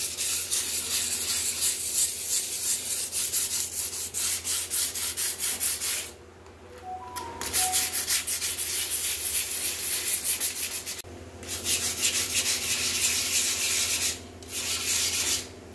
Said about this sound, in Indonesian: Selanjutnya kita masuk kepada proses pengamplasan.